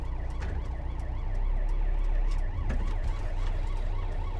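An ambulance siren wails in a rising and falling pattern through city traffic, fairly close and persistent over the rumble of a car engine, with no talking.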